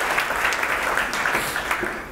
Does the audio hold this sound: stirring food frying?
no